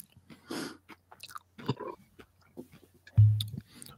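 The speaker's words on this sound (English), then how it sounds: "I'm chewing on crunching on chips" Someone crunches on chips close to the mic, producing a few crisp bites and chewing sounds between quiet pauses, with soft murmured talk in the background.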